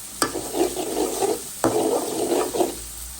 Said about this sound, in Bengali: দিয়ে দিলাম কষানোর জন্য মশলাটা একটু কষু।